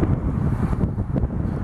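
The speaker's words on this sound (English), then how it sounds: "Again, a little bit windy." Gusty wind buffets the microphone outdoors beside a 1952 Ford 8N tractor with a V8 conversion, a steady low rumble with rises and dips and no speech.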